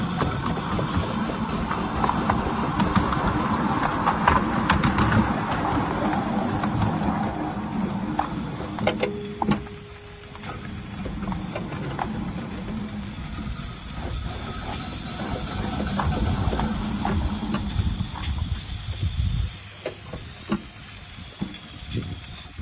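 Maxitrak 7 1/4 inch Forney live steam locomotive setting off in forward gear, a steady close hiss of steam with rhythmic chuffing and mechanical clatter running throughout, briefly easing midway before continuing.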